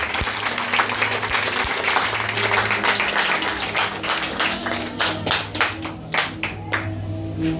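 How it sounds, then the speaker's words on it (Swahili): A church congregation claps hands in worship during a prophetess's service, starting as dense applause and thinning into sharper, more distinct rhythmic claps toward the end. "Pigie Bwana makofi kimenisha"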